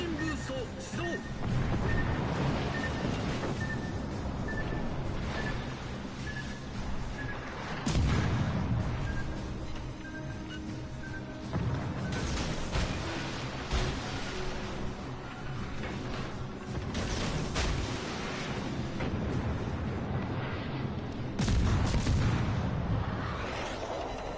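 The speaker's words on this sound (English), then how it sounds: "Well, we got him with the torpedoes." Torpedo hits explode against a warship in World of Warships Legends, giving a long run of heavy booms and crashing blasts that recur in several loud bursts over dense, rumbling battle noise.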